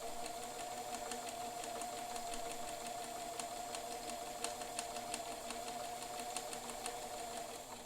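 A Bernina 530 Record sewing machine runs steadily on a shortened stitch, its fast even needle ticks forming a continuous mechanical whir that holds at a moderate level throughout with no voices.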